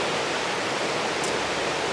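The Nolichucky River flows close by along the Appalachian Trail, a steady, even broadband rush of moving water with no breaks and no talking.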